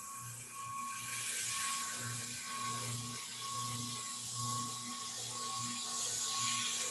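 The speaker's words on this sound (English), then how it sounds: "Sand to our line." Sanding material down to a marked line gives a steady, close abrasive rasp with a rhythmic pulsing drone underneath that runs for several seconds.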